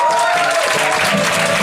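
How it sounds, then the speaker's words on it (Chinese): A crowd at a small bar gig claps to welcome a band's leader on stage, a short burst of steady, dense applause heard close and loud throughout. "我们拍手欢迎我们的团长"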